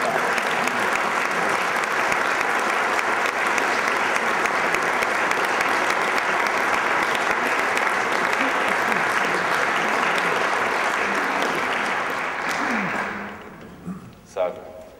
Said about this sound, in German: Ich unterbreche gerne für einen Applaus zur Ankunft des Generalministers.